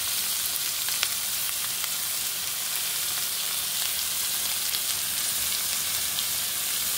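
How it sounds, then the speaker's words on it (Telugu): Tomatoes and onions sizzle steadily in a hot pan while cooking for an aloo broad beans curry. The frying hiss is loud, close and continuous, with a few faint clinks and stirring sounds and no talk. "ఆనియన్స్ 2 కలిపి ఇప్పుడు మనం టమాటాలు వేసేద్దాం. కొంచెం కుక్ అయ్యే వరకు అలా మనం"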